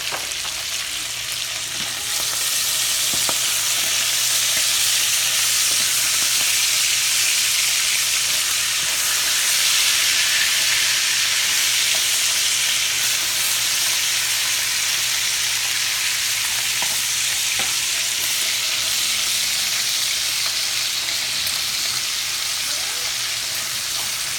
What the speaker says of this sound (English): We're gonna mix the bacon up a little bit.